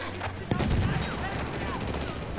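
Gunfire in the Battlefield 1 video game: a sharp shot, then a rapid, dense burst of shots that settles into scattered distant firing, with someone talking over it.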